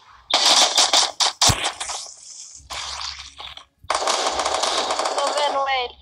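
Gunfire in the battle-royale video game Free Fire, with sharp bursts of automatic shots and single cracks separated by short gaps, loud and close.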